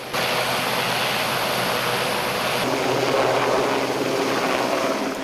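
A Westland Sea King helicopter runs steady and loud nearby, its engine whine and rotor roar holding a constant, dense noise throughout with no talk.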